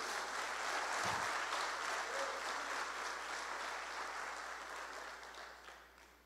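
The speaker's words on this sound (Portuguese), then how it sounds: "Você pode aplaudir a Jesus por isso?" A conference congregation gives sustained applause in a church setting, a fairly faint, even wash of clapping that slowly fades toward the end.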